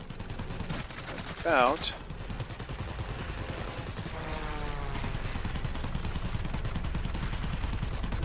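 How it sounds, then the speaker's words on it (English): The rear gun of a Bristol Blenheim Mk.IV bomber in World of Warplanes fires rapid rattling bursts through the clip, mixed with engine drone, and a voice speaks briefly over it. "the rear gun is vicious on this thing"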